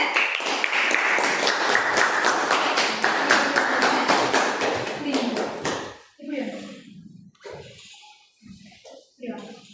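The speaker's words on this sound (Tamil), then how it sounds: "4 மாணவர்களுக்கு முதல் ஒரு பலத்த கைத்தட்டல் கொடுங்க" Students in a classroom give a loud round of applause, dense clapping for about six seconds before it stops and voices talk in the room.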